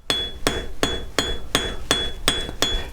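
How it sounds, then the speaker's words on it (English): Hammer strikes on sterling silver wire during forging ring out in a steady series of eight sharp, bright metallic blows, evenly spaced about a third of a second apart, close and loud. "Try to keep hammering in the middle of the wire."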